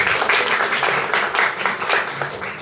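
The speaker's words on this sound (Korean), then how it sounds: "다시 한번 교장님께 큰 박수 부탁드립니다" An audience at a mentoring talk claps for a school principal, a moderate rippling applause of many hands with uneven swells and no clear speech over it.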